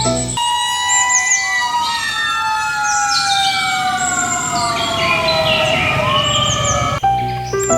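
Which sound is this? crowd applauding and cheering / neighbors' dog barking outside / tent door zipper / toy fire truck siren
toy fire truck siren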